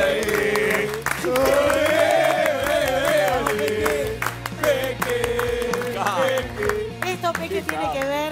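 Studio audience and crew on a televised cooking competition applaud and cheer a departing contestant, loud continuous clapping mixed with crowd shouts, music and talk over it.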